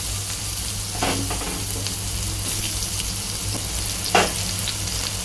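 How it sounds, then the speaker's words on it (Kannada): Steady sizzle of mushrooms frying with ginger, green chili and garlic in a pan for creamy mushroom fried rice, with a couple of brief stirring scrapes, close and moderately loud. "ಇದನ್ನು ಒಂದು ಎರಡು ನಿಮಿಷ ಫ್ರೈ ಮಾಡ್ಕೊಳ್ಳಿ"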